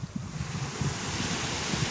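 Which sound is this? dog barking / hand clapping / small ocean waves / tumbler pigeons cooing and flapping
small ocean waves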